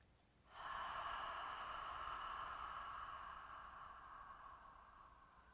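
A person takes a deep breath in through the nose and then exhales slowly, a sustained close airy rush that fades gradually, with no talking.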